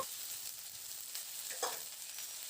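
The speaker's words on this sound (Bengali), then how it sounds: "আলুটাকে দিয়ে প্রথমে নাড়াচাড়া করে একটু ভেজে নেব" Potatoes and onions frying in a pan: a steady, fairly quiet hiss of hot oil with a few faint stirring scrapes, no voices.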